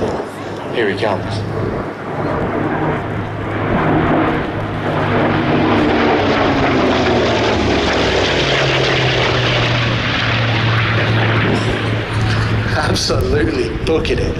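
A vintage aircraft roars past at high speed at the Flying Legends Airshow 2023, the loud engine note rising and then falling away as it passes, with commentators talking over it.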